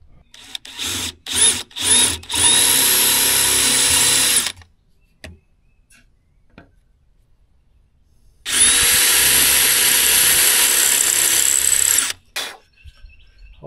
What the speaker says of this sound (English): so I'll be drilling right there